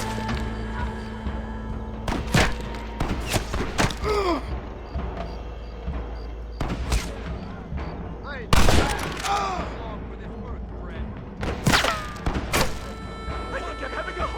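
Red Dead Redemption gunfire rings out as repeated sharp shots and short volleys over a steady background drone, mixed with game voices and grunts.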